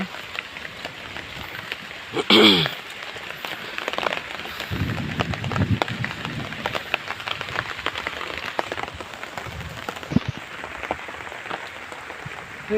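Steady rain patters outdoors near jungle and banana leaves, a continuous broadband hiss throughout with a brief louder burst early on.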